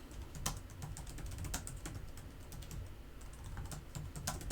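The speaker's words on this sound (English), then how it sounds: "Real quick, I'll just type in a chat." Quiet, rapid clicking of keys on a computer keyboard, irregular bursts of taps heard close up with no voices.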